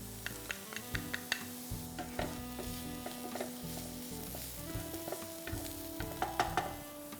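Onions and finely chopped garlic sizzle in hot oil, a moderate steady fry close by with scattered spoon taps and clinks against the pan, no talking.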